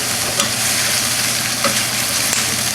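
Sous vide flank steak with fajita vegetables sizzles steadily in a hot pan, a loud continuous fry with occasional light scrapes and clinks as everything is stirred together.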